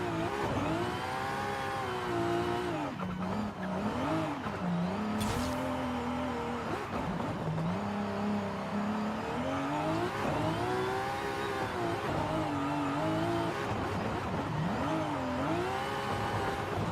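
A Toyota Supra engine wails through revving, shifting pitch sweeps while drifting in the Open Drift racing game, loud and continuous with rising and falling tones.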